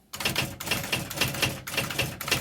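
An IBM Personal Wheelwriter 6781 electric typewriter by Lexmark types a quick series of keystrokes, each a crisp mechanical clack over the machine's running hum, close up and alone.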